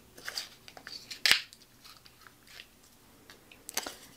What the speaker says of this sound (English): instead of another rip piece, I'm going to use my hole puncher